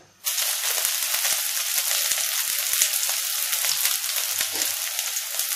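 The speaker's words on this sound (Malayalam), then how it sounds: "അതിൽ വെളിച്ചെണ്ണ ഒഴിച്ചു കൊടുത്തിട്ടുണ്ട് അപ്പോൾ നന്നായിട്ട് ചൂടായിട്ടുണ്ട് വെളിച്ചെണ്ണ അപ്പോൾ നമുക്ക് ഇതിലേക്ക് ചെറുള്ളി ഇട്ട് കൊടുക്കാം" Chopped shallots dropped into hot coconut oil in a kadai fry with a loud, steady sizzle that bursts in abruptly and holds with crackling pops, close to the pan and with no voices.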